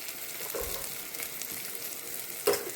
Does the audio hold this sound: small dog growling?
no